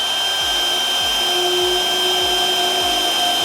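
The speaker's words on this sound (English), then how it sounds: "I'm going to start with my 1/2-inch core bit" A 1/2-inch core bit drills into a metal electrical box with a loud, steady high whine, pulsing in regular low thumps roughly every half second, with no talking.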